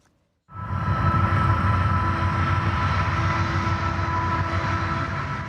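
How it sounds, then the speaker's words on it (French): A long freight train rumbles past in rural northern Texas, starting abruptly and then holding a loud, steady roar of rolling wagons with a faint high whine, no voices. "où les trains de marchandises peuvent s'étirer sur 3 km"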